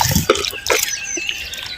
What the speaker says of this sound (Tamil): வாழைப்பு தண்ணியை வந்து நம்ம சேர்த்துக்கிறோம்.